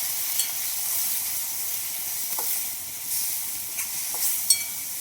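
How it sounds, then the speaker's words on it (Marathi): Paneer bhurji with garam masala, salt and kasuri methi sizzles steadily in a pan, a constant frying hiss broken by a few sharp clicks and scrapes as a spatula stirs it, with no talking. "परतून घेऊया."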